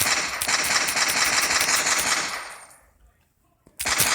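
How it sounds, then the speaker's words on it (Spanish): Minigun firing effect from a weapon sounds app: a loud, rapid continuous burst of gunfire for about two and a half seconds, trailing off into near silence before a second burst starts abruptly. "Este se llama Minigun."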